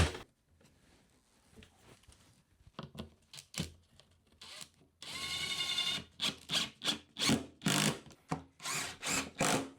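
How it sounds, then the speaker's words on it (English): A power drill drives screws into wood while sheets are fastened onto a wheeled dolly; short bursts of whirring repeat with brief pauses, close and loud, and a longer sustained run sits in the middle. "I'm going to grab some screws and drive them in"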